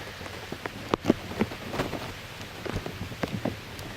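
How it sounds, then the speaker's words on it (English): Rain falling steadily outdoors during a wet spring turkey hunt, a constant patter with scattered louder drops striking nearby surfaces close to the microphone, no voices. "it's raining. It's been raining non-stop, on and off for the past couple of days."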